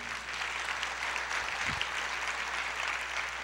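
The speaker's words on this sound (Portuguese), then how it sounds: "Pode aplaudir." A church congregation applauds, a steady dense patter of many hands clapping at moderate distance that continues evenly throughout.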